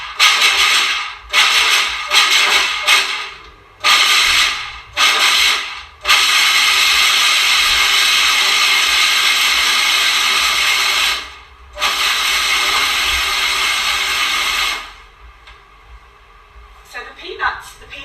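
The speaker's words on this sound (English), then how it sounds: "I'm going to start by blending the peanuts, so breaking them up into small pieces" A kitchen blender chopping peanuts into small pieces runs in several short bursts, then in one long steady whir with a bright, hissing grind. It stops abruptly, leaving near silence.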